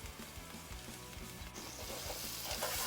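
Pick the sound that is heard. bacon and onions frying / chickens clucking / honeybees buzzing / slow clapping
bacon and onions frying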